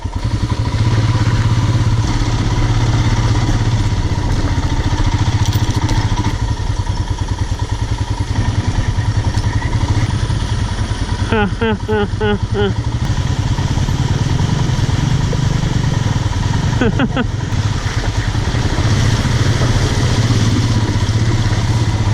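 A Royal Enfield Himalayan motorcycle being ridden, its engine droning loud and steady the whole way through with heavy wind rush and occasional clattering thumps over the road. No one speaks.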